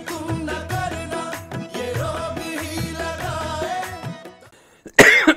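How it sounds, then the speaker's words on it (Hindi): Music plays steadily, then drops away and a single loud, close cough bursts out at the very end. "खांसी कर लूँ ना"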